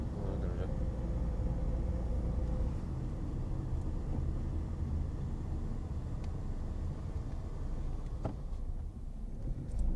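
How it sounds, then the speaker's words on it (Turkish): Steady air-conditioner fan hiss fills a car cabin during a slow driving-test rehearsal on a school course, a continuous moderate rush blended with low engine and road rumble. "klima sesi çok gidiyormuş arabada"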